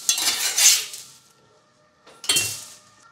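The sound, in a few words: cooking Breton buckwheat galettes on a crêpe pan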